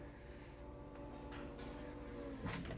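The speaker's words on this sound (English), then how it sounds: "Has a power lift gate." A power lift gate on a 2018 GMC Yukon Denali in frost white runs with a steady, low motor hum and whir for about three seconds, closing with a sharper latch-like thunk near the end.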